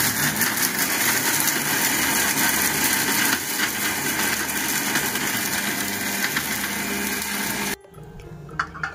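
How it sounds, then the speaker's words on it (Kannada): Mixer grinder blending dried chillies, curry leaves, garlic, tamarind, salt and drumstick leaves into chutney powder, a loud steady whirring grind that runs continuously for about eight seconds, then cuts off abruptly, leaving a quiet tail with a couple of small clicks. "ಸೊ ಲಿಡ್ ಮುಚ್ಚಿ ಇದನ್ನು ಗ್ರೈಂಡ್ ಮಾಡ್ಕೊಂಡು ಬರ್ತೀನಿ"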